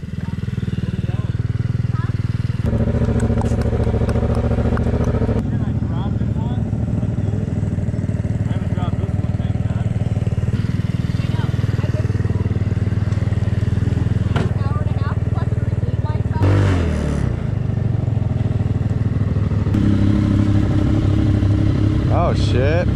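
A Venom X18R 200cc motorcycle engine runs close by, a loud, steady, throbbing idle with shifts in pitch as it revs and settles, while people talk over it.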